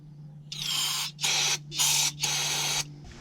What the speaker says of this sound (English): You're going to take some brake parts cleaner and clean out that bore also.